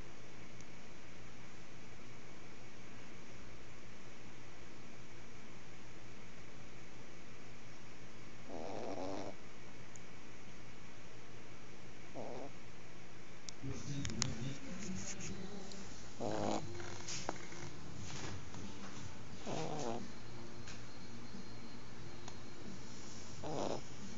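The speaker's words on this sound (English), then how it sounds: "You can hear him snoring." A pet dog or cat snores through several rhythmic bursts over a steady low background hum, indoors and fairly close, with louder snorting breaths later on.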